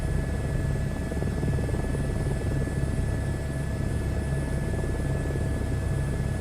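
The rotor of a helicopter in a VR flight game churns loudly and steadily, a dense low chopping hum with a faint high whine running through it, no voices.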